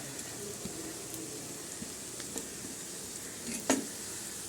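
Carrot, beans, capsicum and cabbage sautéing in a pan give a soft, even sizzle at moderate distance, with a few faint clinks from stirring and no voices.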